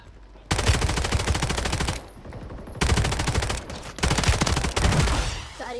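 Sustained automatic gunfire from a Call of Duty match, loud rapid bursts in three long volleys separated by brief pauses, close and dense.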